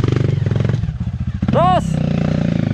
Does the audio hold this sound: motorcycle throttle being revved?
yes